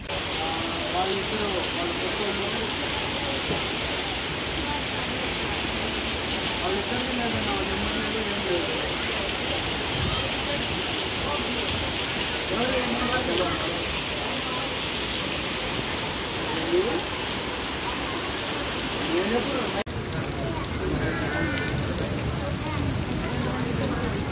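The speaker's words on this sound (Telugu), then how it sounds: "సడన్ గా పెద్ద వర్షం పడిపోయింది." Heavy rain pours steadily throughout at Shilparamam in Hyderabad, a dense continuous hiss of drops without pause.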